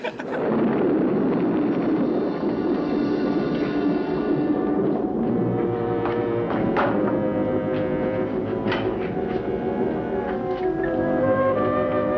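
Thunder from a lightning storm in the 1963 film The Terror rolls in as a loud, sustained rumble that fades into scattered sharp cracks and taps over a steady stormy background.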